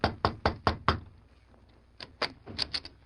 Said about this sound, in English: The Lone Ranger hesitated a moment, then knocked.